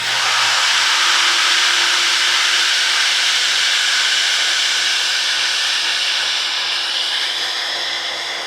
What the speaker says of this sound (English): Now the saw, baby.